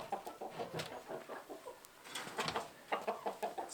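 Chickens cluck and murmur in a coop, producing a busy patter of short, soft calls close by, with no talking.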